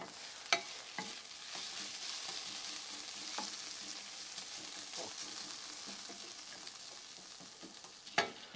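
Onions nearly caramelized, frying in a pan with steady close sizzling while a utensil stirs and scrapes, with occasional sharp clacks against the pan.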